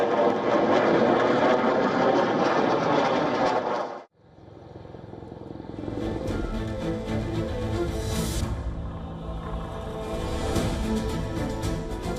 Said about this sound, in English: The stranded helicopter finally took off after technical teams repaired the malfunction.